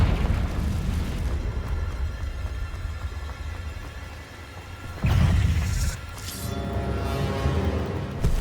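A Confringo blasting spell goes off in Hogwarts Legacy with a deep rumbling explosion, then a second sharp blast bursts partway through and leaves a crackling tail.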